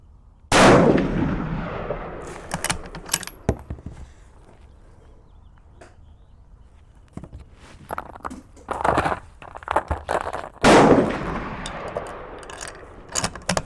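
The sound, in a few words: 6.5mm Creedmoor rifle shots during load testing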